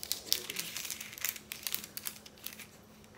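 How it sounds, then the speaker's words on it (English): Close, fairly quiet crinkling of foil paper photocard packaging, a steady run of sharp crackles and rustles with no voices. "This is like the foil paper."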